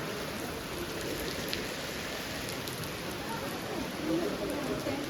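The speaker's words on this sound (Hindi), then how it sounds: "बारिश जो ॾाढो मज़ेदार इंजॉय पिया करियूं" Rain falls steadily at the Batu Caves temple in Kuala Lumpur, Malaysia, as a dense, even hiss of drops on surfaces, with a faint voice underneath.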